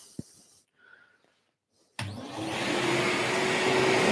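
A dust extractor in a woodworking shop, used while building an Adirondack chair, switches on about halfway through with a sudden loud, steady roar that holds to the end. A few faint clicks and handling sounds come before it.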